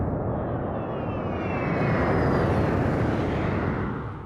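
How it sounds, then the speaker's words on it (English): Massive roar of a C-5M Super Galaxy military transport aircraft's engines, a loud sustained broadband rumble with a whining tone that swells slightly mid-passage, heard alone without voices. "The C-5M Super Galaxy is a massive military transport aircraft capable of carrying large cargo and troops over long distances."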